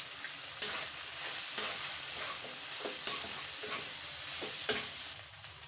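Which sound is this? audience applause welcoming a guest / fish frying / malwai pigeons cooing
fish frying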